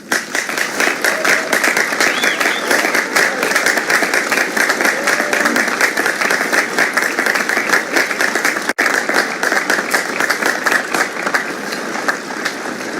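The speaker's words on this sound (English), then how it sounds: "show their appreciation for all their instructors with a big round of applause" Big round of applause from officers at a police passing out parade, honouring their instructors: dense, steady clapping from a crowd, loud and continuous throughout with no break.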